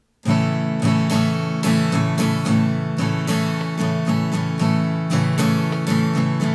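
Steady acoustic guitar strumming in even, straight rhythm, bright and close, sustained chords with regular strokes and no talking.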